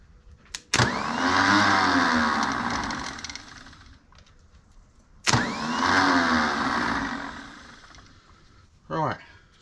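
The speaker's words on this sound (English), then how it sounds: "Right, starter motor works anyway. Oh, it turns over." A Zetor 6718 tractor engine cranks over on its starter in two long whirring bursts separated by a pause, followed by a brief shorter crank, close and loud.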